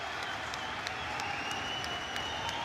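Crowd at the Inter Services Boxing Championships 2019 applauding steadily after a round ends, a dense, continuous wash of clapping with a few sharper claps poking through, fairly distant and without talk.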